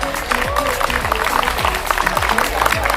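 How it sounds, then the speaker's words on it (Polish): Steady applause from a crowd at a company anniversary picnic, dense clapping throughout with a low rumbling beat underneath. "Poproszę o brawa dla pana Tomka"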